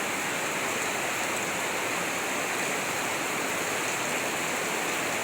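Rain falls hard and constantly on a home courtyard, making a thick, unbroken wash of noise throughout, with nobody speaking.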